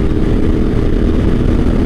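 Yamaha T7 motorcycle engine while riding on a sportsbike rideout, a loud steady low drone at constant speed, with no voices over it.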